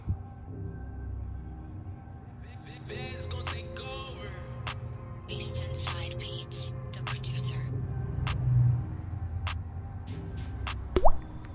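Coolant drips from a failing head gasket on a 2017 Ecoboost Mustang with 26,000 miles: faint, scattered sharp ticks over a low hum, with someone talking through the middle.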